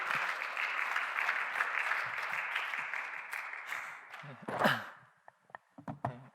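Applause from a youth worship congregation welcoming the men's futsal club leader, sustained dense clapping that fades out, followed by a few shuffles and thumps near the mic.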